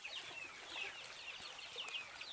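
Chickens cluck and call softly while being fed, several short repeated calls at a modest distance, faint and with no talking over them.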